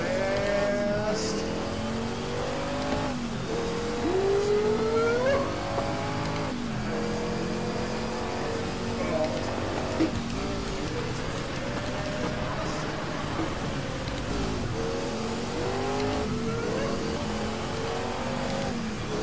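A race car in Project CARS revs hard and shifts through the gears, with rising and falling engine whine and brief tire squeals, loud and continuous, while a player talks over it now and then.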